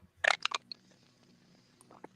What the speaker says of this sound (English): It sounded like somebody was crunching on something, like a bag or something.